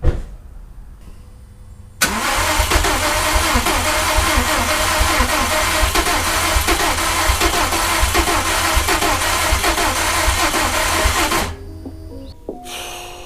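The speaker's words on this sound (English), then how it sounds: "Literally just gonna hook it up to a battery and then run it." A Subaru engine, freshly installed and run off a battery with the intake box left off, cranks and fires at once, then runs loudly and steadily for about nine seconds before shutting off abruptly.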